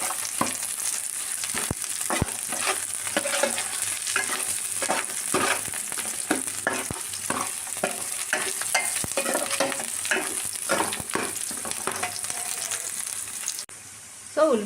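Onions and curry leaves frying in hot oil, a dense steady sizzle with frequent sharp scraping and tapping stirs, close and loud, easing off near the end.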